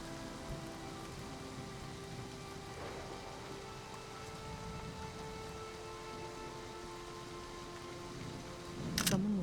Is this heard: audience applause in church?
no